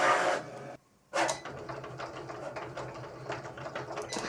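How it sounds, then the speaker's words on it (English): A Cricut cutting machine runs at close range with a busy mechanical whirring and rapid clicking, broken by one short pause before it resumes. "in a wild turn of events, Jackson took over the Cricut and crushed it"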